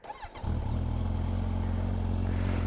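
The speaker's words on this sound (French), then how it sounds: "je vais démarrer la moto et on va écouter ça" A motorcycle with a baffled exhaust starts with a brief cranking clatter, then settles into a steady, loud, rumbling idle close by.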